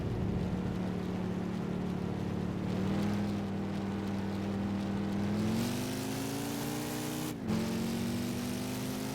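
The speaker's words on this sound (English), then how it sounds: "It's like diesel. It's a diesel car." A diesel race car engine from Gran Turismo 5 drones at a steady pitch, then rises as it accelerates, dips briefly with a gear change and climbs again, loud and continuous with no talking.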